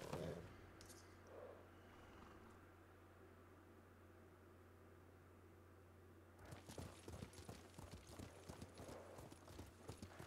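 Horse hooves in the video game Ghost of Tsushima clop in quick, steady footfalls from about six seconds on, close and distinct over a low constant hum, after a quieter stretch of ambient game sound.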